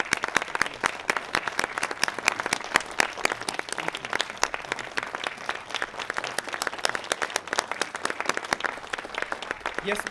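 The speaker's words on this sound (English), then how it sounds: "Let's give them all a round of applause for appreciation." Crowd at an outdoor Memorial Day ceremony in Lawndale applauds steadily for about ten seconds, a dense, fairly distant patter of many hands with some voices mixed in.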